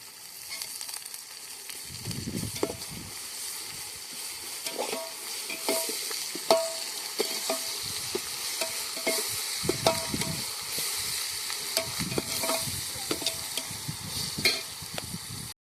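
Ginger garlic paste being stirred into frying masala for quail biryani, with a continuous close sizzle and irregular scraping strokes of a spoon against the pan, no talking.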